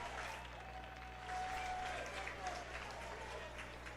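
Crowd of over 1,500 baseball fans applauding at a home playoff game in Bellingham, a steady wash of clapping and crowd noise heard from a distance under a low hum, rising slightly midway.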